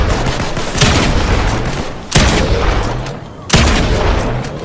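Weapon fire in the video game Fortnite bursts out in three loud, sharp volleys about a second and a half apart, each decaying into a rumbling tail, with game noise in between.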